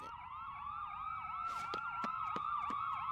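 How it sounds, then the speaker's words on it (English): Several wailing ambulance sirens in the video game Trauma Team overlap in swooping up-and-down sweeps, loud and continuous, with a few sharp clicks cutting through partway. "Ambulances. Tons of them."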